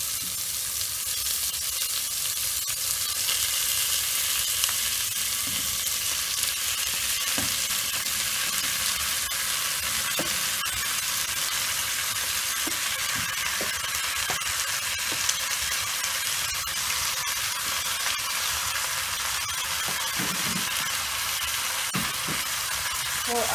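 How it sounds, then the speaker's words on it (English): Beef frying with onions in a pan for beef masala, a steady loud sizzle with occasional stirring scrapes throughout, no talk. "I'll put my meat, my beef. This is my beef, I'm going to put it."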